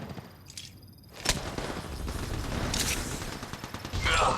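Gunfire in the video game Apex Legends, with a few sharp shots and then a dense burst of rapid fire, loud and close, while a voice speaks over the shooting.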